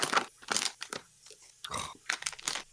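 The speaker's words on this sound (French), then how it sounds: "Il est parti manger la bouffe du chat." A pet crunches dry Swiss cat kibble in a series of sharp, irregular bites and chews, close and fairly quiet, with no talking.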